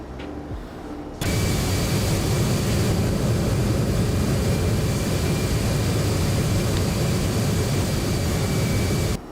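Steady, loud engine drone of a King Air 350 turboprop in the X-Plane 11 flight simulator, swelling in after a quieter opening second and holding a constant broadband roar with a faint high whine, no talk.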